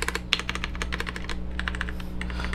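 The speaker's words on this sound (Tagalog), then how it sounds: "Tunog mechanical keyboard." Rapid typing on a Garuda GG82G keyboard with mechanical-sounding keys, a dense, continuous run of close clicky keystrokes over a low steady hum.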